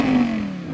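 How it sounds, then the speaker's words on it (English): An Audi R8 V10 sounds off in a brief, loud burst, its high engine tone sliding slowly downward as the rev falls away, with no voices present. "The R8 used to sound like this."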